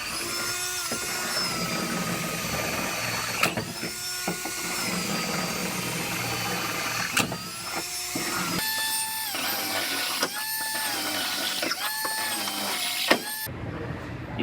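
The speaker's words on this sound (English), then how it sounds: "I got to drill all those out all the way back to somewhere back in here" A drill whining at changing pitch as it bites into metal, drilling out spot welds on a vehicle frame rail, repeated bursts starting and stopping up close, with clicks between runs.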